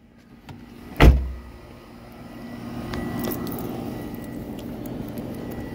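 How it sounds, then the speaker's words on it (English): Hood release of a 2003 Chevy Malibu: one sharp clunk as the latch pops, followed by a low steady rumble of the surroundings. "Go ahead and pop this hood."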